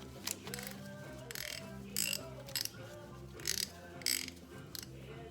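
Hand-tightening bolts on the primary cover of a Harley-Davidson during a 103 to 110 cubic inch engine upgrade, giving a few bursts of ratchet clicking with metallic tool sounds, close and fairly quiet, no talking.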